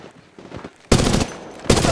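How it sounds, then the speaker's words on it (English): Automatic gunfire in the Apex Legends Mobile video game comes in two loud, dense bursts, with a quieter stretch of softer sounds before them. "They're shooting at me!"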